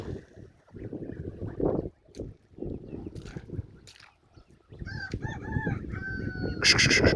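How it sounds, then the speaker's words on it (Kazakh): Geese give a run of harmonic honking calls that grow louder toward the end, over a rumbling, noisy outdoor background with a few brief knocks. "Мына қаздар енді."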